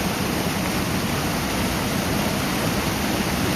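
A rushing water current pours steadily through a stream where climbing fish jump into a net set in the flow. A dense, continuous roar holds at an even level throughout, with no voices.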